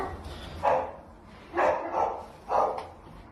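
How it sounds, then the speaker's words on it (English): Around 9:30 at night a dog gives about four sharp barks in short, spaced bursts, two of them close together, set against a quiet background. "Is that a real dog?"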